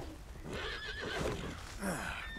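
A horse neighs in the video game Red Dead Redemption 2, a close, loud whinny with wavering pitch and a second shorter whinny near the end, with faint hoof clip-clop beneath.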